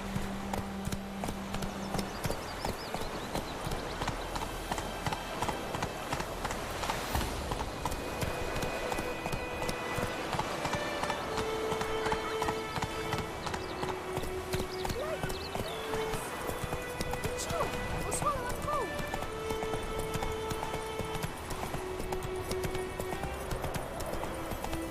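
Galloping hooves of the horse Roach in The Witcher 3 beat a fast, steady clip-clop rhythm throughout, beneath a game soundtrack and occasional voices.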